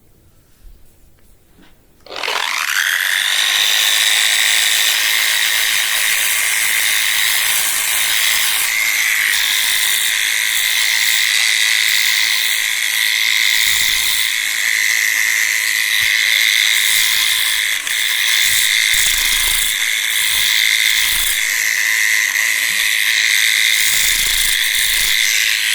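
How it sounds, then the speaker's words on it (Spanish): A variable-speed grinder sands alabaster stone at low speed, starting after a quiet moment and then a loud, steady whirring hum with a rasping edge that continues alone. "Estoy utilizando una moladora de cambio de revoluciones. Llevo la lija a bajas revoluciones"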